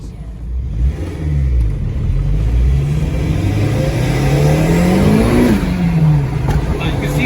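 A turbocharged 1987 Acura Integra accelerates hard while racing on a shakedown run, its engine note climbing steadily in pitch for several seconds, loud and close, then easing back briefly.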